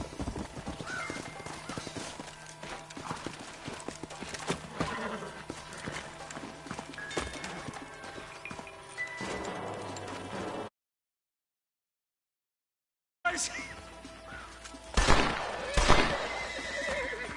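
Horses in the Western video game Red Dead Redemption whinny and clop their hooves, with steady hoofbeats and neighs over game ambience, a short silent gap, then louder horse sounds.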